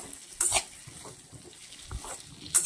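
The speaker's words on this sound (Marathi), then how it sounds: "पूर्ण शेंगोळे आपल्याला तेलात मसाल्यात परतून घ्यायचे आहे" Shengole, urad dal dumplings, are tossed in oil and masala in a pan, with soft frying sizzle and a few brief stirring scrapes, faint and close, with no talk.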